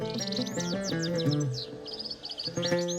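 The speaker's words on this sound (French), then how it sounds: "le chant mélodieux et délicat d'un oiseau, le chardonneret élégant" A European goldfinch sings bright, rapid twittering trills over a busy background of other tones, a lively warbling phrase that pauses briefly and resumes.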